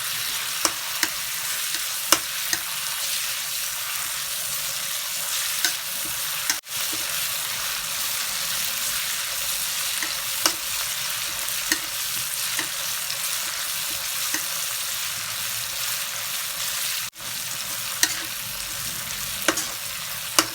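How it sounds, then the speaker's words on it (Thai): Constant loud sizzling of a hot pan stir-frying pounded chili and garlic, with occasional scrapes and clacks of a utensil stirring, no voices. "ผัดพริกกับกระเทียมให้หอมก่อนจ้ะ"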